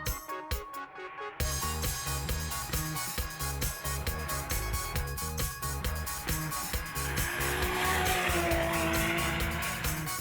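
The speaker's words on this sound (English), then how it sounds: "both Jade and Des had it down pat, slingshotting off the mark in an arresting display of raw power and traction" Race cars at the Simola Hillclimb in Knysna launch hard off the start line, their engines revving loudly and rhythmically up through the gears, with tyre squeal rising toward the end, over a driving music bed and no talk.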